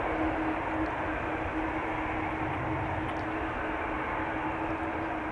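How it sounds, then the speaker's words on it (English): A KLM airliner lands at Amsterdam Schiphol with its reversers at idle, giving a steady, broad roar of engine and rushing air heard from a distance, with no voices. "In typical KLM fashion, unfortunately for us, it is landing. Keeping up the speed, vacate late, sooner to the gate, and idle reversers"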